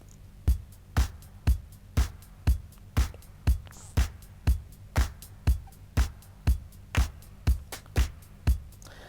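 A dry, uncompressed drum pattern plays steadily: punchy kick thumps alternating with snappy hits in an even groove, clean and fairly loud, with no voices.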